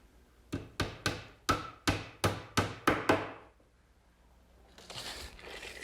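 Roughly eight sharp, evenly spaced hammer blows drive nails into the wooden case of a chest of drawers, close and loud, followed by a faint rustle.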